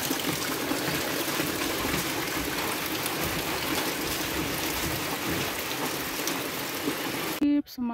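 Steady hiss of rain falling and pattering on surfaces at a house construction site, constant and fairly loud, with a brief sharp interruption near the end.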